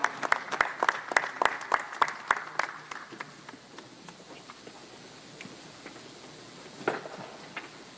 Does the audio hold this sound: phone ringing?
no